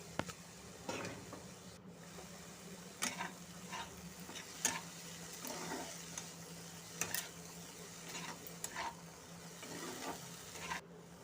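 Lentils stirred into a frying pan of spiced vegetables while cooking oats khichuri: a steady sizzle beneath repeated scraping strokes of a spoon against the pan, irregular and close, with no voices.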